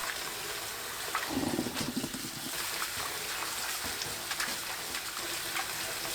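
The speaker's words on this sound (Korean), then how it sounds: "찬물에 3-4번 헹굽니다." Blanched spring shoots of the Korean kalopanax tree being rinsed in cold water, a steady near watery splashing and trickling with brief louder sloshes, no voices.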